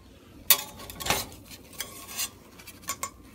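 A metal spatula scrapes and taps against a pan while flipping a veggie omelette, with a few sharp clinks and softer scraping sounds spaced irregularly at close range.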